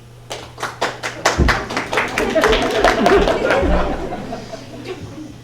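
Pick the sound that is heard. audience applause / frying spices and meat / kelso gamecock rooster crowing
audience applause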